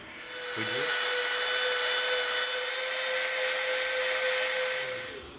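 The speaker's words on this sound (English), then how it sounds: "we're going to bevel from this line to this line" A high-speed rotary power tool bevels the edge of EVA foam, whining up to a steady tone and holding it for several seconds before spinning down, close and with no talk.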